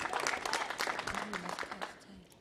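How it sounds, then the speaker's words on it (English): Councillors in a legislative chamber during a budget debate applaud, steady moderate clapping with speech audible underneath. "we must give ourselves a round of applause for having worked like this"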